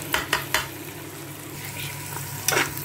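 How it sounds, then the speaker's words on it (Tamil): Onions sauté in a pan for Tamil-style chicken curry with a steady, moderate sizzle, while a few sharp spoon scrapes and clinks against the pan stand out near the start and end. "இந்த மாதிரி நல்லா வதக்கணும், நல்லா கலர் சேஞ்ச் ஆகணும்."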